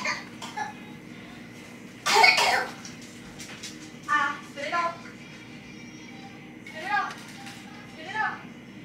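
A child coughs in a short, sharp burst, followed by a few quieter throaty sounds and bits of soft talk nearby.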